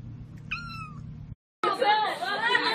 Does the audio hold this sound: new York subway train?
no